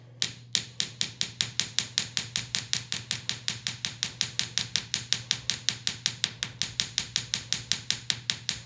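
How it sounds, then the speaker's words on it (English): Rapid, even hammer blows forging copper ring out, dozens of bright metallic taps in a steady rhythm, close and clear. "just letting the hammer do most of the work."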